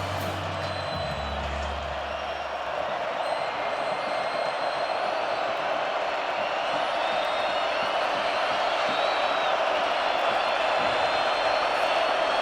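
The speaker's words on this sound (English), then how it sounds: "they need this crowd to be as rowdy as they've been all night" Football stadium crowd at a Kansas State versus Colorado college game, a broad steady roar of cheering and whoops that swells slightly and holds, distant and continuous.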